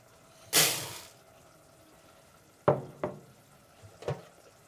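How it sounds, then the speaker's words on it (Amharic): Oats are washed in cold water, a splashing pour followed by a few brief sloshes and knocks of grain and water in a bowl, with no talking. "በቀዝቃዛ ውሃ ነው የማጥበው።"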